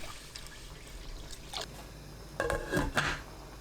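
Water poured into a pot with anchovies and a piece of dried kelp for soup stock, then the lid set on; soft trickling and a couple of brief clinks near the end, fairly quiet and close, with no talk.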